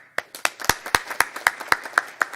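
Steady, evenly spaced hand claps ring out about ten times in a couple of seconds at a First Friday downtown business gathering, sharp and fairly close, with no talking over them.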